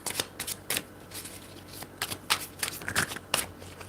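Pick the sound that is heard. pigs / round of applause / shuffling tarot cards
shuffling tarot cards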